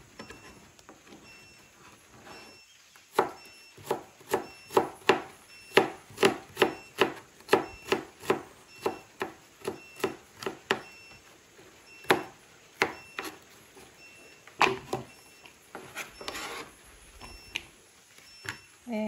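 Tomato and onion are chopped on a board for vinaigrette, about twenty crisp knife knocks in an uneven, brisk rhythm, close and fairly faint, with a few pauses between bursts.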